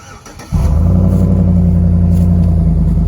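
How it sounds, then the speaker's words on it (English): A 5.3L V8 pickup truck with a Borla Pro XS muffler cranks on a cold start and catches after a moment, then settles into a loud, deep, steady idle rumble up close. "I'm going to go ahead and do the cold start on the truck"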